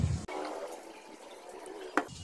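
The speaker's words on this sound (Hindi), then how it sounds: "चलिए भरते हैं इसे पानी।" Water is poured into a dug hole in the ground, a steady watery splashing and trickling that runs throughout, close by, with a brief sharper splash near the end.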